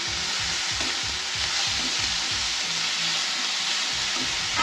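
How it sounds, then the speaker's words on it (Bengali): Vegetables for masala Maggi fry and sizzle steadily in a pan while being stirred, with repeated scraping strokes under a continuous hiss; no talking. "দিয়ে এবার একটু নাড়াচাড়া করছি।"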